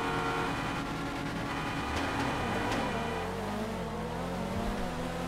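Fast cars racing in GTA 5, with a drag-tuned Nissan GTR R35 among them: a steady, loud blend of engine roar and revving that shifts pitch as the cars accelerate, with no talk over it.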